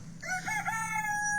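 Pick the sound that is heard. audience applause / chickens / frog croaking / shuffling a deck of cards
chickens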